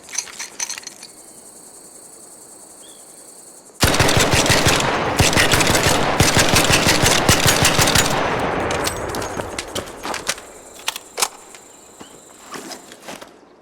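Sustained automatic gunfire from the Bettina gun fitted with a compensator in a video game: a dense, loud rattling burst of rapid shots lasting several seconds, then trailing into scattered clinks and a few isolated shots.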